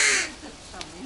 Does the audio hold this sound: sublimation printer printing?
no